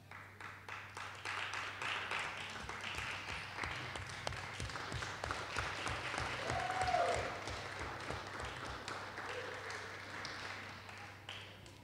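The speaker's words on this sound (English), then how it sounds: "Please stand, turn around, and applaud your vision supporters who are here for you today." Graduation ceremony audience standing to applaud their supporters: steady clapping from a large hall that builds toward the middle and tapers slightly, moderately distant, with a few faint voices mixed in.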